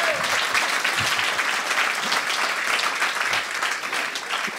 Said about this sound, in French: applaudissez monsieur pour son manque de...